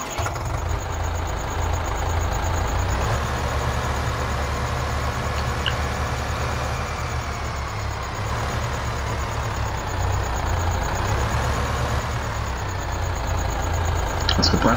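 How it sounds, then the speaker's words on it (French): A tractor engine idles steadily in Farming Simulator 15, a continuous low rumbling drone with a whining upper layer that holds constant for the whole stretch, with no speech. "On va reprendre ce tracteur là."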